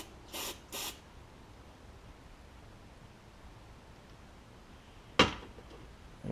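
Short hissing bursts of aerosol cleaner sprayed into the carburetor of a Craftsman garden tractor, two quick sprays close by, a long quiet pause, then one sharp longer spray.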